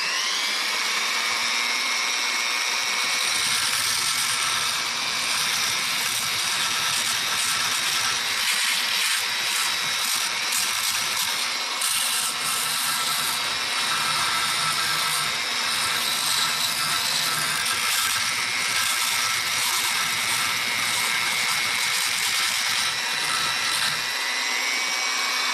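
A Wen 6307 half-inch by 18-inch belt sander strips powder coating off a metal part, giving a loud, steady abrasive whine and grinding rasp that runs continuously at close range with no talking.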